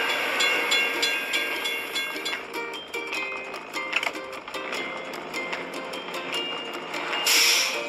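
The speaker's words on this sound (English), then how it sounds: "We have to wait for the train to pass." A train rumbles past with rhythmic clattering and clicking, mixed with a steady background tune and bright chiming tones, fairly close and continuous.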